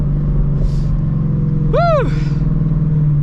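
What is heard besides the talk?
Ford Shelby GT350 car driving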